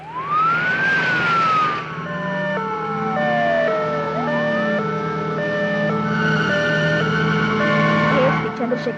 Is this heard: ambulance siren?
yes